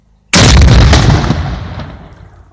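A single massive gunshot from a 14.5 mm Degtyaryov 1941 single-shot anti-tank rifle booms suddenly after a moment of quiet, then rolls and rumbles away in a long, fading echo.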